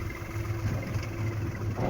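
A tractor engine runs steadily at a medium pitch while tilling a farm field, a close, continuous rumble with no one talking.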